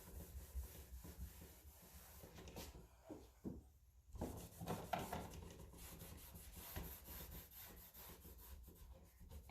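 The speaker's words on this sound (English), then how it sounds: "that drywall sanding block was exactly what I needed for these edges" Hand sanding the edges of an old wooden door with a drywall sanding block, a steady raspy rubbing that repeats in short strokes, quiet and close with no talk.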